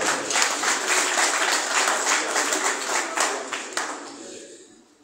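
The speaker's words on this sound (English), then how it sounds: "please give a round of applause for them" A crowd applauds steadily for several seconds, a dense patter of clapping that fades out toward the end.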